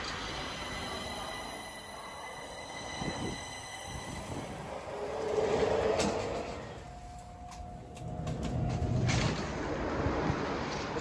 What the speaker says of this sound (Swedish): Så, nu kommer tåget till Hässelby.